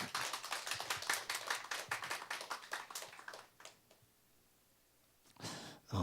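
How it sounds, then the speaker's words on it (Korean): A church congregation claps in thanks for a retiring senior pastor and his wife, brisk rhythmic applause for about three seconds that dies away into near silence before a brief rustle. "우리 감사의 박수 한번 드리겠습니다"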